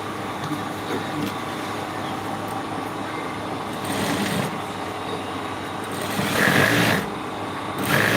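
Sewing machine running a double stitch on a pencil skirt during a live class, a steady mechanical whir and rhythmic needle chatter that swells louder in a few bursts.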